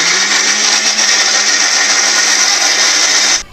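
A repaired mixer grinder jar whirs steadily while chopping onion, a loud, even high-pitched motor drone lasting a few seconds before cutting off abruptly at the end.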